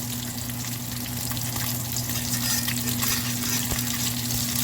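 Salmon pan-searing to a crispy finish, giving a steady, close frying sizzle with constant hiss and crackle throughout, no voices over it.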